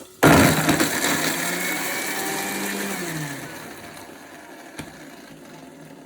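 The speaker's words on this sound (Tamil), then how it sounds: "தேங்காயை நம்ம அரைச்சிக்கலாம்" A kitchen mixer grinder grinds coconut, bursting on with a loud motor roar and blade clatter, holding for about three seconds, then spinning down and fading, with one faint knock near the end.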